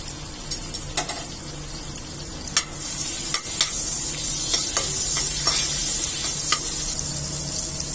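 Whole spices, a piece of cinnamon, bay leaf, green cardamom and cloves, sizzle steadily in hot fat in a pan for paneer butter masala, with scattered sharp clicks and taps from stirring over the constant frying hiss.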